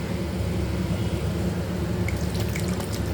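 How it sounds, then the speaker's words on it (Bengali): Water runs steadily into a pot of cooking soup with a continuous splashing pour and a few faint drips near the end. The sound is close and fairly loud, with no voices. "আমি কিন্তু একটুখানি জলটা বেশি দিলাম"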